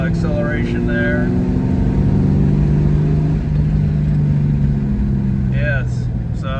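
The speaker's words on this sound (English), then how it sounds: "There's a downshift to 3rd, little acceleration there." A 1995 Ford Mustang GT, recently fixed of a misfire, downshifts into third and pulls forward, its engine note loud and droning from inside the car as the revs climb and then ease, with a brief voice near the start and end.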